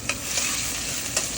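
Garlic frying in dried annatto-coloured oil gives a close, steady sizzle, with a couple of soft stirring scrapes over the crackle and no talking.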